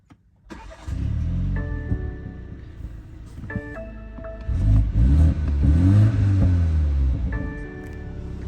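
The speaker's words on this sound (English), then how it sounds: "you can actually hear the car burble when you start it up" A 2021 BMW 330i fires up in sport mode with a starter whir, a sharp rev flare and then a low, rumbling burble that rises again in a second throttle blip before settling.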